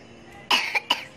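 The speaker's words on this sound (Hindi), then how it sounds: "खांसी भी आ रही है।" A young child with a cold coughs three times in quick succession, close by, in short sharp bursts against an otherwise quiet room.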